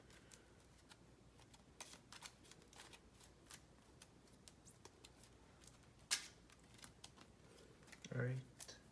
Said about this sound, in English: we're going to shuffle our deck